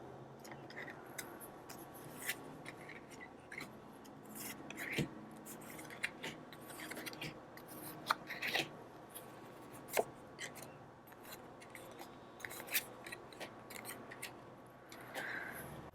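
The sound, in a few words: tarot cards being pulled out and handled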